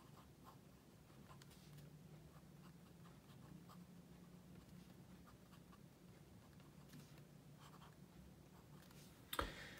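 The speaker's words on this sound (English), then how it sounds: "Let's do a writing sample, last but not least, with this fantastic Pelikan nib." An extra fine nib on a Pelikan M101N Grey-Blue fountain pen, written unposted, makes faint continuous scratching with short rhythmic strokes, close and quiet, ending in a brief louder tap.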